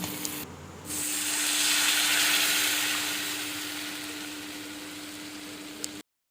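Water poured into cooked spice paste in a pan sets off a loud, steady hiss and sizzle that swells after a brief pause and then slowly eases into a simmer.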